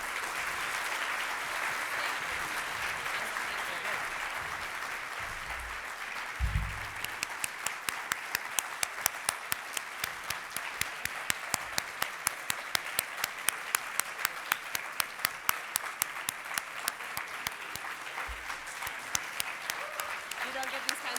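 Conference audience applauding steadily throughout, a dense wash of many hands that settles into rhythmic, synchronized clapping partway through, fairly distant and sustained.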